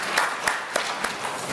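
A church congregation claps together in a short burst of applause, a few distinct claps standing out over a steady wash of hand noise at moderate distance.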